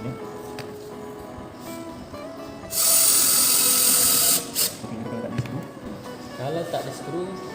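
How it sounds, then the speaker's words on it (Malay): A cordless drill drives screws into wood while building a wall-hanging wooden flower basket, one loud buzzing burst of about two seconds near the middle plus a shorter burst after it, amid room noise and some talk. "Kita pakai skru lebih mudah lah. Kita pakai cordless lah."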